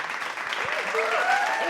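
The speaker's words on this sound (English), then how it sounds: "Everybody, give him a round of applause." An audience applauds as a guest, Cedric Gathings, is welcomed. The clapping is steady and moderate under a few brief vocal sounds and faint cheers or whistles.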